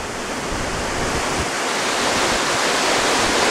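Storm waves on the Chesapeake Bay during Tropical Depression Ernesto, a steady loud roar of surf and wind-driven water filling the whole clip without pause.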